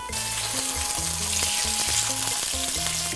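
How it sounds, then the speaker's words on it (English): Meat fries in oil in a skillet, a loud, dense, continuous sizzle that stays close and steady throughout. "Fry for about 3 minutes on the first side, 2 minutes on the second side"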